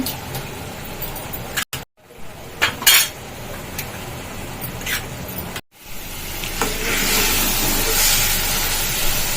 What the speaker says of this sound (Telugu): గుడ్లు వేసేసుకుందాం